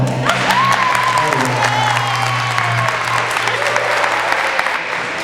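Audience applause with some cheering at a graduation rehearsal, a steady dense wash of clapping from a crowd lasting several seconds, with a faint voice and a hum running underneath.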